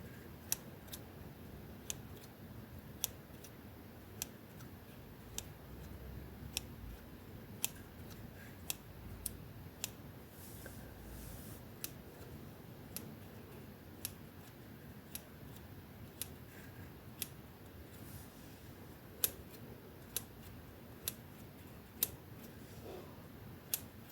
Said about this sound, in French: Un autre trigger que j'aime bien, c'est les ciseaux.